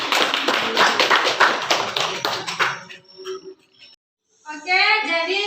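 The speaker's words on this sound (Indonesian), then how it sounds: "Tepuk tangan untuk kita semua." Classroom applause, a burst of quick clapping from many students for about three seconds that fades out, followed by silence and then children's voices rising afterward.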